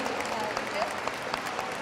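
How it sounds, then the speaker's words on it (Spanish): Applause from a forum audience farewelling two women guests at a peace event, a steady wash of many hands clapping at moderate level, with faint voices mixed in. "Despidamos con un aplauso a nuestras dos primeras invitadas"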